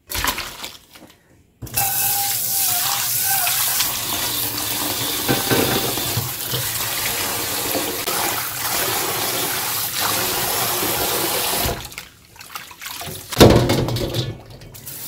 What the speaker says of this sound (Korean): 이제 찬물에 씻어줘야 돼요.